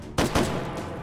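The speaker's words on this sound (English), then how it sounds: "I shot him anyways." Two quick gunshots in the VR shooter game Hot Dogs, Horseshoes & Hand Grenades, close and sharp in rapid succession, followed by a lingering echoing decay.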